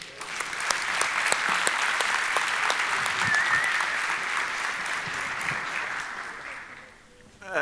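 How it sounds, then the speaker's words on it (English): Conference audience applauding at the close of a talk, a dense steady wash of many hands clapping that holds for several seconds before tapering off near the end. "Shouldn't we get the organizer a big round of applause?"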